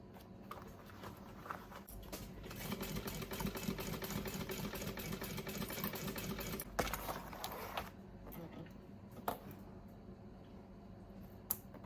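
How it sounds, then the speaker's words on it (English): A sewing machine stitches a bag seam with a 3/8 inch allowance, a steady close motor whir with rapid needle clatter running for several seconds, then stopping, followed by quieter handling clicks. "I'm gonna sew, starting at the one edge and going all the way across to the other line, using a 3/8 inch"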